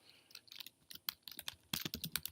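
Fingers typing on a computer keyboard while a coding folder and file are set up, quiet irregular clicks and key taps in bursts, speeding into a denser run of keystrokes near the end, close and alone.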